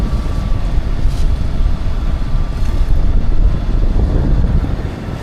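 A boat engine throttling up hard just after leaving a lock on a Great Loop cruise, giving a loud, steady low rumble mixed with wind buffeting and moving water for the whole stretch, with no talk.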